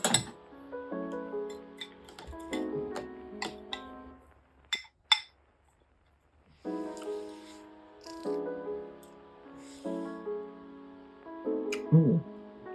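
A metal spoon clinks against a bowl of lasagna soup in close, bright ringing taps that come in clusters with quiet gaps between, several strikes in a row.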